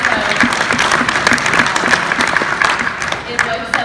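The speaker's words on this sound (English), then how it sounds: "yes, applause." Audience applause at a labour federation conference, a close burst of clapping with individual hand claps standing out and some voices mixed in.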